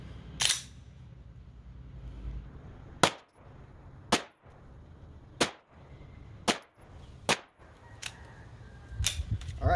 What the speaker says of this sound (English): I'm going to go ahead and fire a 5-round group and confirm slash check my zero.